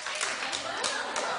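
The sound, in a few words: studio audience clapping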